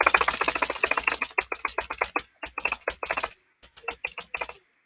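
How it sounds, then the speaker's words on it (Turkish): Rapid clicky keystrokes on a computer keyboard come in quick bursts with brief pauses, close and crisp, with no voices. "Bak benim bir klavye sesi."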